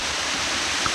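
Waterfall at Bear Mountain State Park, a steady, dense rushing roar of falling water heard alone and close.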